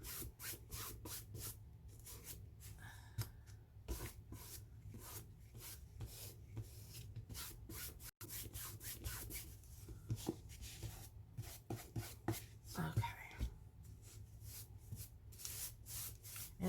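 A dry brush dabbing black paint through a stencil onto a book cover, with quick, rapid rhythmic scratchy strokes, close and fairly faint, continuing steadily throughout.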